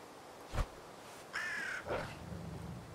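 Bird cawing in the video game Winter Survival, a crow giving a few separate harsh caws over a quiet background, faint and somewhat distant.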